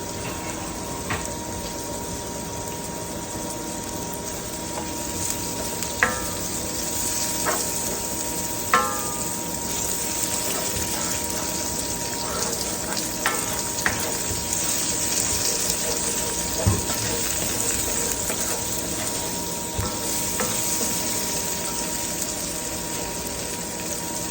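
Coarsely chopped half onion hitting oil in a frying pan, a steady broad sizzle with occasional small pops and utensil clicks, moderately close and continuous, without talk.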